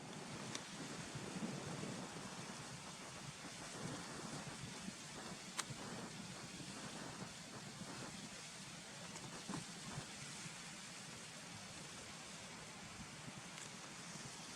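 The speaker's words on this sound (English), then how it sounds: "you can see the waterfalls coming down there now, look" A waterfall stepping down several ledges and a fast-flowing stream rush steadily in a constant broad roar, with no pauses, heard outdoors at Gunnerside Gill amid some wind buffeting.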